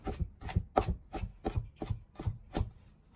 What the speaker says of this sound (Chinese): 最后再把大蒜子改刀剁成蒜末